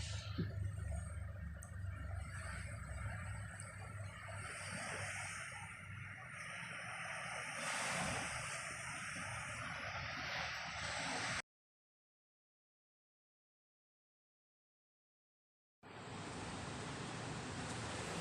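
Sea waves wash at low tide along a shore where people gather shellfish, a steady broadband surf that drops out completely for several seconds, then returns.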